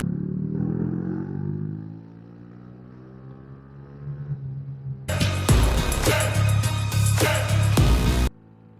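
A Smash 115 motorcycle engine runs, then from about five seconds in it gives loud, close popping backfires against the engine note for roughly three seconds before cutting off.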